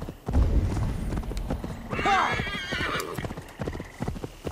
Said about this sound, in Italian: Adesso arriva il cavallo.